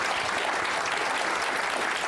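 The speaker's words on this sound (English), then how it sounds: "Let's give Mac another round of applause" A dense wash of audience applause follows a conversation with a New Yorker executive editor, steady and sustained, close and loud, with no talk over it.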